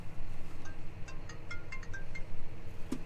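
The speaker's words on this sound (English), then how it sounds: "Oh, no, my phone's ringing." A mobile phone ringtone chirping in a rhythmic series of short electronic tones over low machinery rumble beside a John Deere tractor and Amazone fertiliser spreader on grassland.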